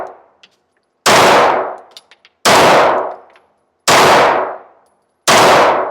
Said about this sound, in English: I got 10 rounds of Max Tech loaded up. We're going to do a limp wrist test on this. Just going to shoot it one-handed.